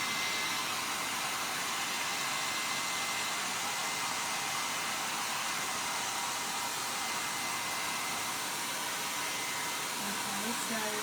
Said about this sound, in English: if I put the heat tool on this and it was too hot, it might actually sort of bubble up